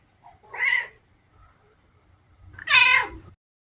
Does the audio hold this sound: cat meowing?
yes